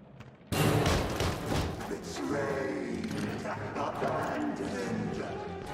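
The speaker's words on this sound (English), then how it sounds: "The moment where Sammy comes shouting at you and smacks through the planks was basically a jump scare." Sammy bursts through wooden planks in the video game Bendy and the Ink Machine, Chapter 5: a sudden loud crash after a brief quiet moment, then a sustained, dense clatter of splintering and shouting-like noise that stays loud to the end.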